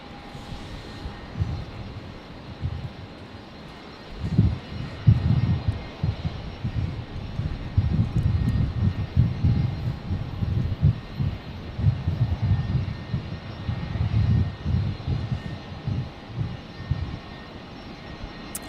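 A Qantas airliner taking off from runway 01 right at Brisbane International Airport, a low distant engine roar that swells and rumbles steadily through the stretch with no talk.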